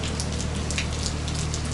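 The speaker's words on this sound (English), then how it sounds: "it's starting to really bucket down now" Heavy rain pours down steadily during a Mediterranean hurricane, a dense, continuous hiss of drops close by with no voices.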